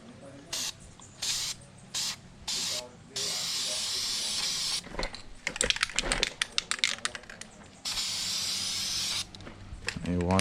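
Aerosol spray paint applied to a headlight housing in short hissing bursts, several quick puffs and then longer sprays with sharp crackly spatters, close and loud, while a person talks partway through.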